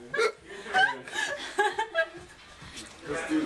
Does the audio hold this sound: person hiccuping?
yes